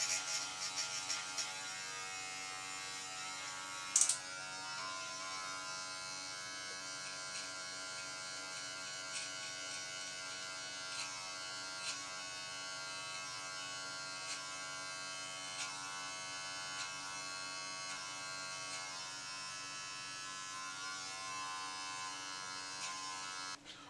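Electric hair clippers fitted with a number one guard buzz steadily while cutting hair, a continuous close hum with faint tonal whine and small shifts in pitch, with no talking.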